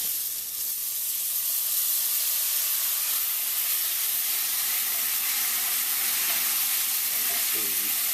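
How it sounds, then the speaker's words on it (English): Marsala wine poured into a hot pan to deglaze it sends up a loud, hissing sizzle of steam that holds steady, with a faint voice near the end. "Now we're going to deglaze."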